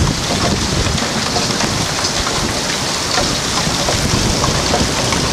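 Heavy rain and gusting wind from a tornado-producing storm, a loud, steady broadband roar of downpour pounding surfaces with wind buffeting the microphone throughout, no voices.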